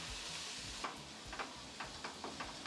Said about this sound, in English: Saute the onions till it turns little goldenish brown.